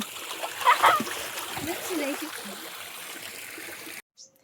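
A small child splashes in a little home paddling pool, with a few close splashes and running water early on, under chatter and voices, before cutting off suddenly.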